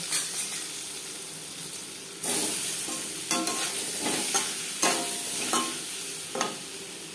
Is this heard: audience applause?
no